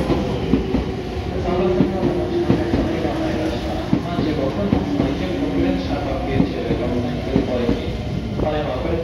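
A Meitetsu 3500 series electric train pulls into Kanayama station, steady rumbling wheels and clickety-clack over rail joints with faint squeals, a continuous moderate roar of an arrival on the platform.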